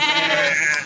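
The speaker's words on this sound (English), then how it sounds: "It's all sheep and goat here, as far as the eye can see." A single close, loud sheep bleat, wavering and under a second long, rises from a vast flock of sheep and goats grazing a Himalayan meadow near the Kuari Pass in Garhwal.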